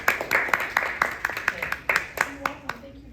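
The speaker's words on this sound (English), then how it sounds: "Give her a round of applause." An audience claps for the marketing director of the Gulf Breeze Zoo at an evening meeting, with a short burst of scattered hand claps that thins out toward the end as a voice starts to speak.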